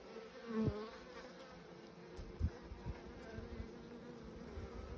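Honey bees, Buckfast and Irish black bees, buzz steadily at a hive, a soft continuous drone with a few brief louder passes close by.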